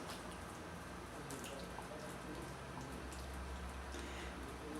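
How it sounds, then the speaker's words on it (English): Water runs steadily from a tap into a large casserole pot in a kitchen, a continuous close splashing and trickling with faint drips and no talk. "I fill a large casserole halfway with water."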